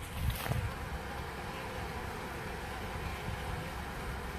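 A dense, steady buzzing drone of many honeybees at a hive entrance fills the air, close and continuous, with a couple of soft bumps near the start.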